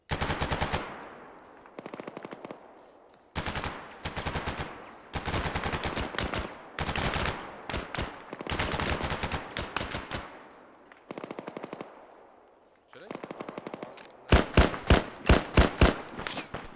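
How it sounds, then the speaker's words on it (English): Heavy machine gun fire in a combat video game, long sustained bursts of rapid automatic shots separated by short pauses, ending in a sharper, louder string of individual rounds. "I think they have an HMG."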